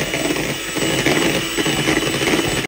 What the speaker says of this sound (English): now we're gonna give this a whisk